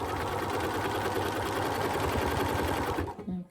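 A sewing machine stitches a quilt-as-you-go joining seam in a fast, steady buzzing run, close and fairly quiet, before stopping abruptly near the end.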